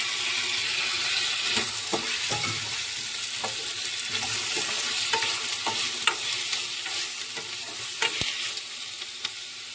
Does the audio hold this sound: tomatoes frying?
yes